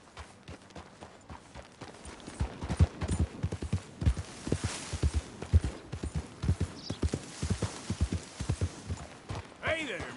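Steady clip-clop of horse hooves walking at an even pace in Red Dead Redemption 2, close by, with voices talking over parts of it and a brief whinny near the end.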